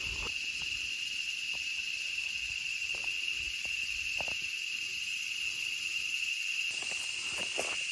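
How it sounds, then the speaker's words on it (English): Loud, steady cicada buzzing fills the woods in Costa Rica without a break, a high drone with faint scattered ticks and rustles beneath it. "Now you probably can't hear me because of the cicadas."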